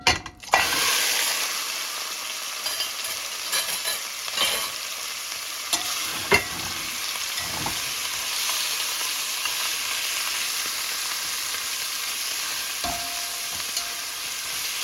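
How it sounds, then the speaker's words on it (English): Pieces of turkey frying in hot oil in a pot, a loud continuous close sizzle after they drop in, with a few clinks and stirring knocks scattered across it. "So I'm gonna put this in and let it start to fry the turkey up."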